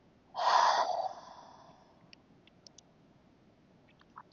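One deep, breathy inhale-exhale during a wind-down yoga session, close and fairly loud, lasting under a second. It is followed by near silence with a few faint clicks.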